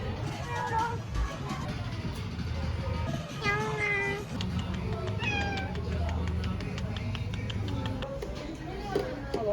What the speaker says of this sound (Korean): 고양이가 오는데?